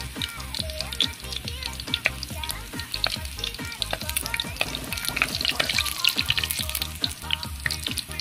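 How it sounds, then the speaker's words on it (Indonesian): Garlic sizzles in hot cooking oil while cooking ubod ng kawayan (bamboo shoot), a loud, close, crackling fry with dense popping spatters and occasional stirring clinks throughout. "Mainit na yung mantika guys, ilagay na natin itong bawang."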